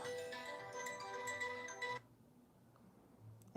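A mobile phone ringtone plays a bright melodic tune for about two seconds, then cuts off abruptly, leaving quiet room tone with a faint low thump near the end.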